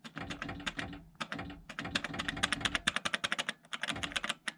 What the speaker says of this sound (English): it doesn't have the clicky sound that the traditional micro switches do